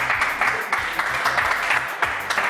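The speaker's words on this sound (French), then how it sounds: "Applaudissements." Studio audience applauding, dense sustained clapping with a few louder bursts, steady throughout.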